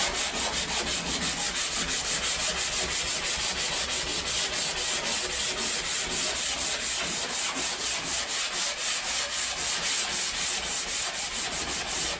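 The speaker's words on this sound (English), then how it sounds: "So this sanding block just takes those little tiny splintery pieces back off" A sanding block rubs back and forth over a wooden board in quick, even strokes, a loud and close rasping that repeats steadily throughout with no voices.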